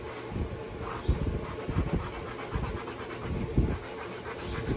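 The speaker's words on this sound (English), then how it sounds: "a lot of sanding when you're building a guitar" Sanding dried glue off a curly maple end wedge on a dreadnought guitar, a steady close scratchy rubbing with rhythmic strokes and a few heavier passes, no voices.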